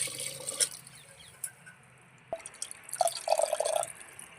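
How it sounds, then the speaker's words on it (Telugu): Water poured into a pot of lentil soup (pappucharu), irregular drips and splashes followed by a short burst of pouring and gurgling liquid, close and without talk. "నీళ్ళు పోసుకోవచ్చు ఇంక మనం"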